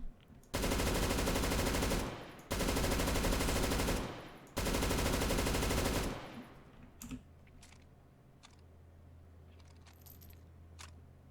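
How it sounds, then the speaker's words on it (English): Light machine gun firing in the video game CS:GO, three long sustained bursts of rapid automatic fire, loud and close, each about two seconds with brief gaps, then quieter mechanical clicks and handling noises. "They make it sound like a more accurate light machine gun sound."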